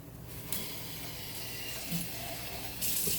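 Running water splashes and rattles inside an emptied tin can of diced tomatoes, a steady close wash with a few sloshing bursts, no voices.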